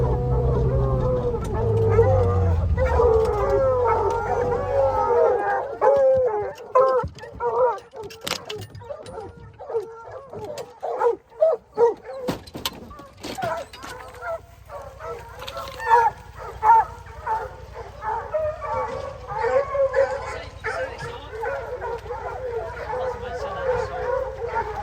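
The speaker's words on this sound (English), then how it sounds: "Got a bear started, it's turned up the hill, and we got some dogs dumped on it." Hunting dogs bay and yip in a steady, overlapping chorus while chasing a bear through the hills of West Virginia, the barking fairly close and continuous, with a low rumble under the first few seconds.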